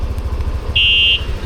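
Anti-theft alarm locator on a Yamaha Aerox V3 motorcycle gives one loud, steady high-pitched beep lasting under half a second over a low idling engine hum.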